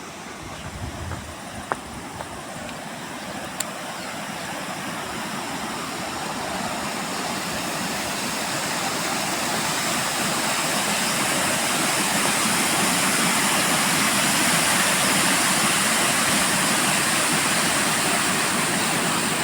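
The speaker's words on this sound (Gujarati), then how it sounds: "ગરતી નદી વોટરફોલ." Waterfall on the Mahi river near Galteshwar, a steady broadband rush of falling water that holds constant and grows slightly louder over the span, with no voices over it.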